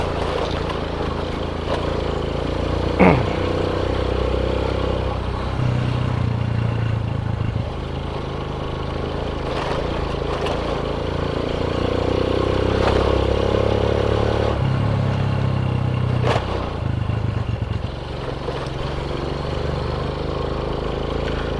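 A motorcycle engine runs steadily while riding, a continuous rumbling drone with occasional clatter and shifts in pitch as it moves along.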